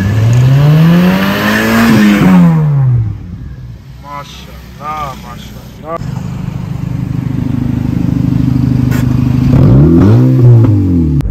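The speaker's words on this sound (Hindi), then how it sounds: "एक बार आप लोगों को जो है रेबो की आवाज सुना दें" A Toyota Hilux Revo pickup passes on a street, its engine note rising loudly as it approaches and falls away, then a second vehicle pass sweeps by near the end, with a voice speaking briefly in between.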